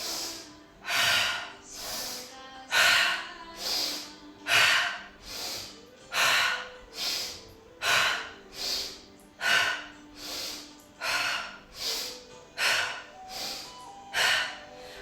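Rapid, forceful breaths during a yoga breathing exercise repeat in a steady rhythm of roughly one sharp inhale-exhale per second, close and loud, continuing alone without talk.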